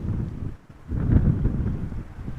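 Wind buffeting an outdoor microphone near the runways at Amsterdam Schiphol Airport on a crosswindy day. It is a steady, heavy low rumble with a brief lull partway through, then it gusts back up strongly.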